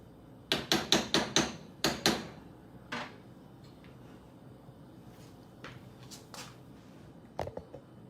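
A spoon knocks and scrapes against a cooking pot while food is stirred, with a quick run of sharp, loud clacks early on, then sparser clinks and taps over a low kitchen background.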